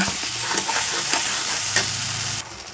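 A spoon scrapes repeatedly through spice paste in a sizzling frying pan while cooking an eggplant dish, the frying hiss steady beneath several distinct stirring strokes, then quieter near the end.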